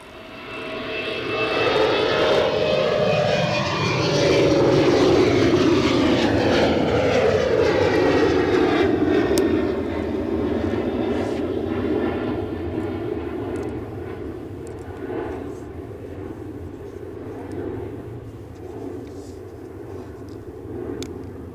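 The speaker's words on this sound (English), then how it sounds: "Finnair on the roll. Or more accurately, Finnair E190 in One World livery." A Finnair Embraer E190 in oneworld livery takes off down the runway at Edinburgh, a loud rising jet roar with shifting engine tones that peaks early, then fades steadily as the aircraft climbs away, no voices over it.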